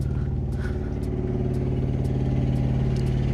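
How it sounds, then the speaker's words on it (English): A generator motor runs steadily up close, a loud, even engine drone with a strong low hum and constant rhythm throughout. "this is the generator motor"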